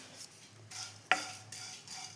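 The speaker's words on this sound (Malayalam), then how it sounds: "അപ്പോൾ ഞാൻ അവിലിനെ വറുക്കട്ടെ." Flattened rice (aval) being dry-roasted in a pan, a soft continuous hiss and rustle with a single sharp scrape of a spoon partway through, close and quiet.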